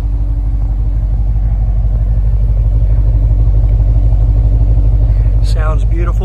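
A white Porsche Panamera GTS idling with a deep, steady engine rumble close by, loud and even throughout, with a brief voice near the end.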